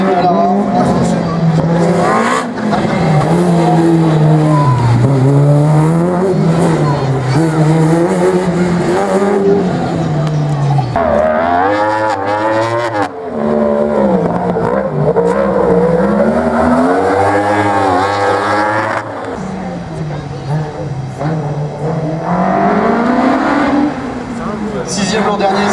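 A Dallara race car runs a slalom course, its engine revving hard and rising and falling through gear changes, with tire squeal and skidding, loud and close for an extended pass.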